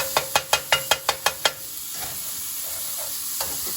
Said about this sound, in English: I'm making myself some sausage